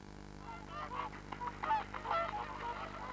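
Swans honking and taking off: a flurry of nasal, trumpeting calls from several birds overlapping at moderate distance over a faint low hum.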